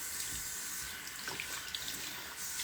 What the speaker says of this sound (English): I'm using cool water to rinse it out.